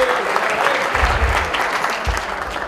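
Wedding guests clap loudly in a hall in Taif, steady dense applause with a few stronger bursts across the whole stretch, a chanting crowd and voices faint underneath.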